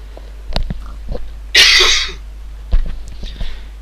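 A few sharp coughs close to the microphone, one loud burst in the middle, with brief quieter throat sounds around them.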